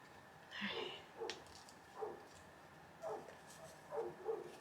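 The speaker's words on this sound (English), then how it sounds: "that neighbor dog just will not give it up" A neighbor's dog barks in the distance, heard as about six faint, scattered barks with some closer together, over a quiet indoor background.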